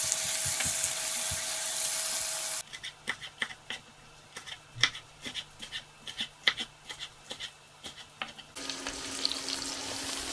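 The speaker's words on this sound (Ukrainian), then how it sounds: "Морква смажиться" Carrots and onion frying in a pan, a steady close sizzle with bursts of stirring clicks and scrapes in the middle stretch.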